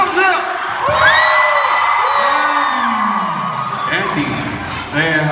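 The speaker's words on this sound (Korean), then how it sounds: "박수 한번 주세요!" Concert audience at a K-pop fan meeting in Dallas whoops, cheers and shouts loudly and continuously, with high excited yells rising over a dense crowd roar, stronger bursts around the start and end.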